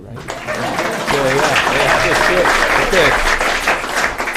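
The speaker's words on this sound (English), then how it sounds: "I guess we should clap for them too," Attendees at a school board meeting applauding, a steady, fairly loud wash of clapping from a roomful of people lasting several seconds, with a voice speaking over it.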